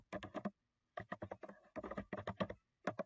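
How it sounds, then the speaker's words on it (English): Typing on a computer keyboard while entering a name and date, heard as close, clear bursts of rapid keystrokes separated by short pauses, with no talk. "type in my first and last name, press enter, type in today's date"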